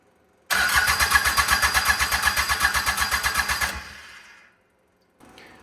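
A Mitsubishi L3E three-cylinder diesel with no compression and no glow plugs cranks and chugs loudly in a fast, even rhythm for about three seconds, then winds down and falls silent.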